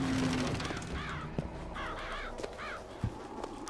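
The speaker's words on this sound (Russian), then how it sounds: "Вороны всюду." Crows cawing in Bioshock Infinite, several harsh, repeated caws in short bursts at medium distance over a low ambient hum, with a few soft thuds in between.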